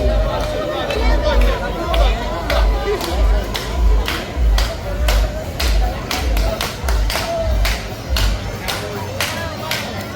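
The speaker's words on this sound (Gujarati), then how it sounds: "હા, તાળીઓ શું કામ પાડે છે ભાઈ?" Rhythmic group clapping rings out in a busy crowd at the Global Village market in Dubai, with even beats over steady chatter and voices.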